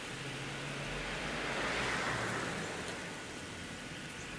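Rain falls outdoors in a dahlia garden as a steady broadband hiss that swells briefly in the middle, with no talking.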